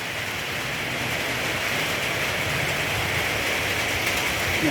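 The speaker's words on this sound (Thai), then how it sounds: "ฝนก็สาดเข้ามาได้เหมือนกันนะครับ" Steady, dense hiss of heavy rain pouring down, loud and unbroken throughout, with no voices.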